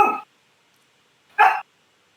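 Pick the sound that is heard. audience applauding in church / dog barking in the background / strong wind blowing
dog barking in the background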